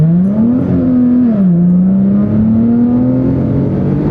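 A supercharged V6 Ford Mustang engine revs up steadily and loudly, pitch climbing, dipping briefly with a gear change, then rising again as it accelerates.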